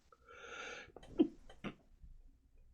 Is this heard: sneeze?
yes